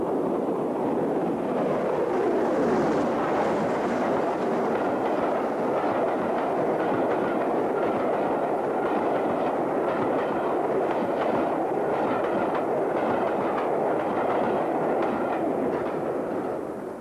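An LNER express steam locomotive hauls a train uphill to the Aisgill summit. It makes a loud, continuous roar of exhaust and rolling wheels close by that stays steady throughout and fades slightly at the very end.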